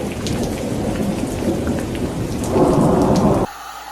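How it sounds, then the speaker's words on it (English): Steady heavy rainfall hisses with a low rumble of thunder building near the end, then the sound cuts off abruptly, leaving only a faint background tone. "it's raining instead"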